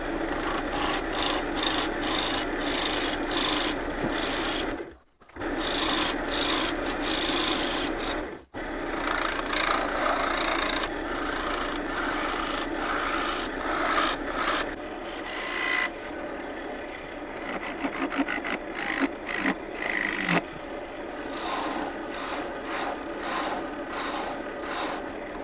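A wood lathe faces off the bottom of an open segmented bowl, the cutting tool scraping and rasping against the spinning wood in long continuous bursts broken by a couple of short pauses.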